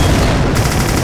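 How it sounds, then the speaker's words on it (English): Rapid continuous gunfire from a machine gun tank in the video game Factory of Doom, loud, dense and unbroken throughout with heavy low-end rumble. "So this is the machine gun tank."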